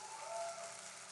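Quiet, dense applause in a church sounds like a soft continuous patter of many clapping hands, steady and faint across the brief moment.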